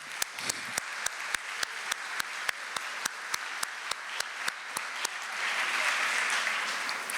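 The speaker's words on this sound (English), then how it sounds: "So let's give ourselves a round of applause, okay?" A school district audience applauds itself during a superintendent's presentation. Sharp, evenly spaced claps repeat steadily with a soft wash of clapping underneath that swells toward the end.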